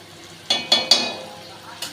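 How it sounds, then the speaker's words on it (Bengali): Masala for a paneer curry is stir-fried in a pan, three quick close scraping strokes with sizzling bursts, followed by a short pause and one more scrape. "তারপরে আমি ভালো করে কষিয়ে নেবো দেখুন মশলাটা কষানো হয়ে গেছে"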